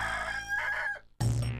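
A rooster crows loudly and close by, a single drawn-out call that breaks off, followed by a short harsh squawk.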